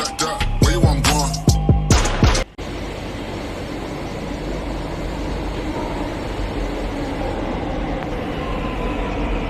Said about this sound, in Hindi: ये आ गई है हमारी मेट्रो।